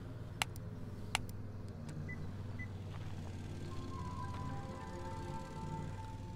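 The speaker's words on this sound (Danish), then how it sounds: "Der er bilen, der lige spiller melodi, og så man låser." A 2024 KGM Torres EVX electric car plays a short electronic locking melody of faint tones, preceded by a couple of sharp clicks, all heard at a distance over a low steady background hum.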